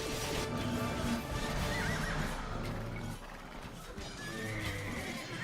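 Horses in pens neigh and whinny, with faint clip-clop of hooves, amid the battle ambience of the Age of Empires 2 DE video game. The sound is a continuous, fairly soft blend of several calls.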